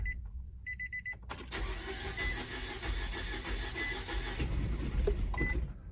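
A car engine cranks and sputters while being jump-started with a NOCO GB40 booster, after a brief electronic chime and a key turning, the churning starter noise loud and continuous for several seconds.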